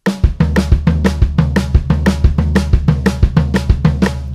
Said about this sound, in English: next, we're going to have right,